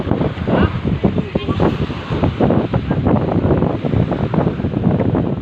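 Strong, steady wind buffets the microphone beside the sea, with waves and surf rumbling underneath throughout.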